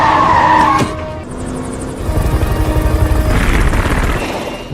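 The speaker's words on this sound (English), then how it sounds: "Danny sprints and jumps onto the helicopter." A helicopter in a film scene rumbles close and loud with a rapid chopping beat, after a sharp squealing burst at the start, then thumps steadily on as the rotor noise swells.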